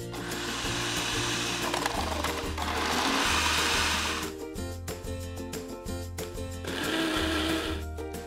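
A James Martin by Wahl compact food processor runs with a steady motorised whir that surges and eases in several bursts, loud and close, with no talk over it.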